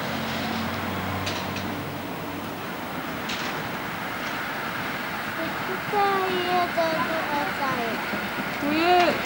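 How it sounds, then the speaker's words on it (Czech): Rail draisine moving along the track near Žilina railway station in 1999, a steady rumbling roll with squealing wheel tones toward the end, fairly loud and close, with talk over it. "To je ta drezína."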